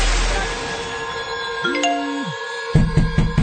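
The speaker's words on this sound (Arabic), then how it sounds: "الفون مين ده اللي بيرن يا جدعان؟" A phone ringtone chimes during a mahraganat music session, a short melodic jingle with sliding tones, followed by sharper tinkling rings over background music.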